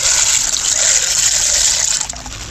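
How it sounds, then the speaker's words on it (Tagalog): Water gushing and splashing as it is poured out during a storm, a loud continuous rushing pour that tapers off near the end. "Yung ganda na tubig ko. Ibubuhos na nga eh."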